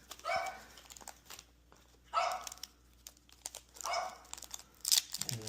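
A dog barks in three short bursts, spaced about two seconds apart, at moderate distance amid a quiet room with faint crinkling of packaging.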